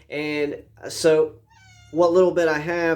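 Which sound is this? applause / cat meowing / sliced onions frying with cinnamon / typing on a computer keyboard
cat meowing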